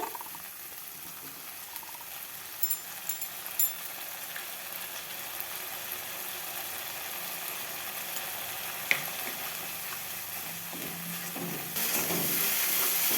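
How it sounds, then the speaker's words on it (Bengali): Spice paste with a little salt sautéing in oil for a mixed vegetable curry: a continuous, even sizzle that grows slightly louder near the end, with a few faint scrapes and clicks of stirring. "মশলাটা আমি ভালো করে কষিয়ে নেব যতক্ষণ না মশলা থেকে তেল ছাড়ছে"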